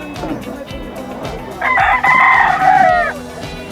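A rooster gives one loud, close, drawn-out crow at a Filipino chicken market, rising over a low murmur of market noise and brief handling sounds.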